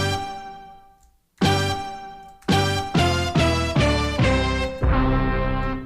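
A single sampled brass note pitched at G, taken from the closing note of a funk track, sounds once, stops briefly, then repeats in short sustained hits with a fuller final note, clean and alone.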